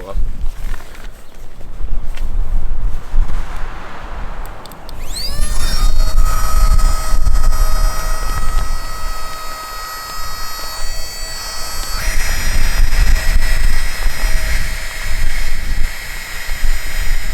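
A Flextail electric air pump inflating a sleeping pad, starting after a few seconds of background noise and speech, then a steady high-pitched motor whine that shifts in pitch partway through and runs to the end.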